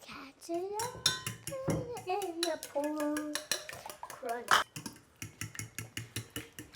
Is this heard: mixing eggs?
yes